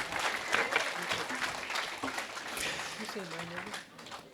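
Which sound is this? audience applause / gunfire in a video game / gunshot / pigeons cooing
audience applause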